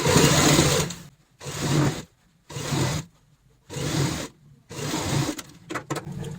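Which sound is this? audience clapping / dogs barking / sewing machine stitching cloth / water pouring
sewing machine stitching cloth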